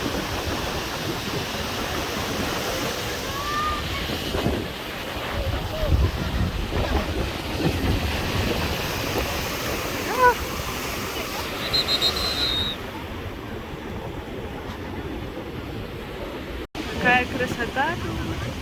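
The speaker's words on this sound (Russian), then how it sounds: "Потому что волны сегодня опасные." Sea waves wash onto a Busan beach in a continuous broadband roar under heavy wind buffeting, with voices nearby and a brief high whistle partway through.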